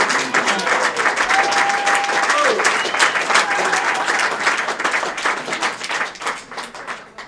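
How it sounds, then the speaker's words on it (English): A reception audience applauds steadily, with dense clapping from a crowd that stays loud for several seconds before slowly tapering off. "I would like you all to give him a nice big round of applause"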